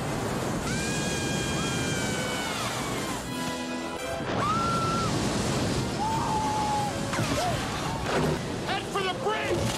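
Crashing waves and rushing water from an Indiana Jones and the Temple of Doom soundtrack, a continuous loud wash of surf, mixed with music tones and people speaking over it.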